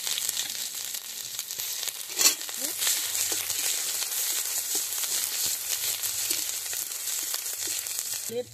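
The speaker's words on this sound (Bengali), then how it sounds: "আমি এবার কুড়ানো একটু আদা দিয়ে দিচ্ছি।" Grated ginger frying in hot oil over a tempering of dried red chillies and cumin for vegetable dal, with a steady bright sizzle and crackle throughout, close and continuous.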